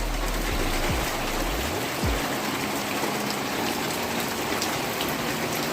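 A steady downpour of heavy rain drums on a rooftop, a loud continuous wash of hiss with a few low thumps early on and no talking.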